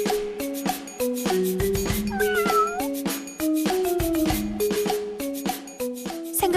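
An indoor cat meows insistently over and over, a rapid series of short cries with one longer call that rises high and then falls, loud and close with no talking.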